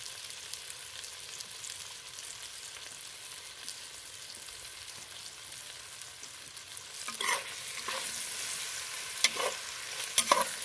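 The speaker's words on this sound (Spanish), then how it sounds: "Nada más vamos a acitronar un poco y retiramos de aquí de la lumbre." Pork steak and aromatics sautéing in a pan for yellow sauce give a steady, soft sizzle, with a few sharper stirring scrapes and clatters near the end.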